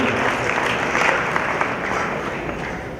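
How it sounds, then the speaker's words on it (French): A wedding congregation applauding for the pastor, dense sustained clapping from a large crowd that fills the room evenly throughout and fades only slightly at the end. "Est-ce qu'on peut applaudir pour l'homme de Dieu, s'il vous plaît?"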